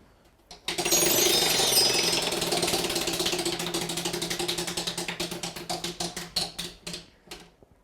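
A game show prize wheel spins with fast, dense clicks from its pointer. The ticks gradually spread out and grow more distinct as the wheel slows toward a stop, with no voices.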